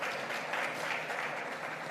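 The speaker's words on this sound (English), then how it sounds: "Give him an extra clap for that." Sustained applause from a conference audience at a work and productivity summit, a dense even wash of clapping heard from a distance at moderate volume.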